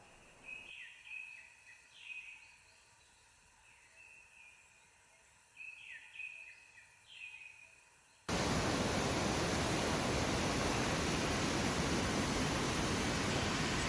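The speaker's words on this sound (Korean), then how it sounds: "새소리와 물소리 그리고 초록의 색이 진하게 아름답다." Birds in a Chiang Mai rainforest give several clear, repeated chirping calls over a quiet background, and then a loud, steady rush of flowing water takes over and continues to the end.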